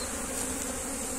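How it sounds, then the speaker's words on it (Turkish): Honey bees buzz steadily at a split beehive, a dense, continuous hum that stays level and close throughout with no voices. "Arkadaşlar Lütfü abiyle bölme kovanın durumuna baktık."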